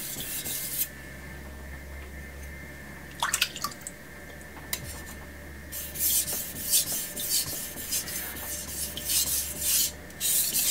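Kitchen knife honed on a Suehiro Debado whetstone, with wet scraping strokes, sparse at first, then a denser rhythmic run of rasping passes against low background hum.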